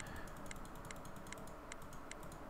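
Crisp, close computer mouse clicks come at a regular pace, about two every second, during play of the game Mutants: Genetic Gladiators, over a soft steady hum and without any voices.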